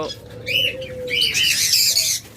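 Chirps and tweets from red-headed lovebirds, a pair in a bird shop among other caged birds, a busy layered twitter with some cooing over a low background hum.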